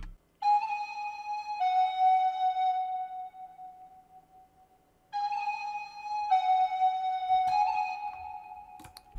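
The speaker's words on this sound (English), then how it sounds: "So the flute sounds like this." Alto flute melody in a Japanese trap beat made in FL Studio, a flute-like recorder tone playing slow sustained notes in two short phrases with a gap between, clear and alone.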